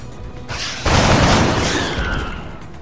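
Gunfire from the video game X-COM: Enemy Unknown, a loud close burst that opens into a rolling crackling volley before slowly tailing off.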